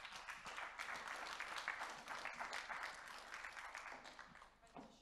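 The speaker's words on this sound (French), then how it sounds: "On peut également l'applaudir." An award ceremony audience applauds a prize presentation, sustained crowd clapping that stays dense and then tapers off near the end, with faint very low-level overall volume.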